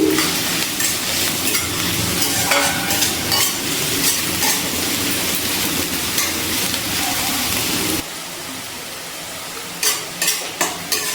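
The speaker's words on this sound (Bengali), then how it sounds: "দুটো বড় সাইজের কুচানো পেঁয়াজ, গ্যাসের ফ্লেমটা হাইতে রেখে পেঁয়াজটা ভেজে নিচ্ছি" Two large chopped onions fry in hot oil in a pan over a high gas flame, a loud continuous sizzle with spatula scraping, easing to a quieter hiss near the end with a few sharp clinks.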